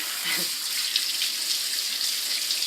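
Tap water runs steadily over cooked peas in a colander in a home kitchen, making a continuous hissing splash close by.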